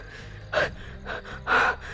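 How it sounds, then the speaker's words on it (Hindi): A man gasps and pants in two sharp bursts and a smaller one between, breathy and close, acted within a horror audiobook narration. "रुद्र हांफते हुए बोला,"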